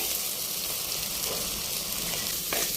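Steady, dense sizzling of soya chunks frying in a hot pan until dry, continuous and fairly close, with a faint stir near the end.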